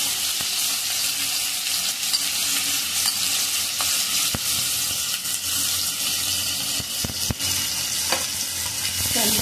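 Onion and asafoetida frying in a pan, a loud continuous sizzle with sharp clicks of a spoon stirring against the metal, up close and without talk.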